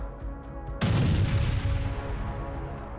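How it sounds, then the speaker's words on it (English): A Grad multiple rocket launcher vehicle struck by an FPV drone explodes, its onboard rockets setting off a secondary blast: one sudden heavy boom after a quiet moment, followed by a rough decaying roar. "igniting the onboard rockets and triggering a secondary explosion that destroyed the entire vehicle"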